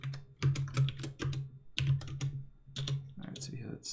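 Computer keyboard typing in irregular short bursts of clicky keystrokes, close and clear, with pauses between runs of keys.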